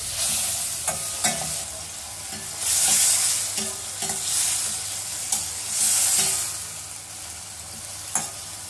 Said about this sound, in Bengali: সব একসঙ্গে কষতে দিন 2 থেকে 3 মিনিট।